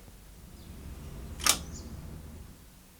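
A single sharp click from the unlocking mechanism of an external library returns chute, loud and brief against a quiet background hum, with no talking.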